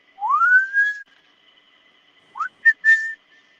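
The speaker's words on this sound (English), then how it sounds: "I might start whistling too." A person whistles a rising, sliding tone, pauses for over a second, then adds a few short whistled notes and one held pitch, close and alone with no talk.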